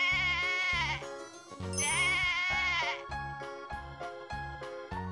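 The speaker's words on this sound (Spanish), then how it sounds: "Mamá oveja." A mother sheep bleating twice in long wavering cries over a steady rhythmic jingle of bells, close and clear.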